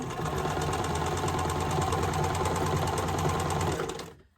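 A sewing machine runs a scant quarter-inch seam on a nine-patch quilt block, a steady close mechanical whir with rapid needle clatter that holds for about four seconds before stopping.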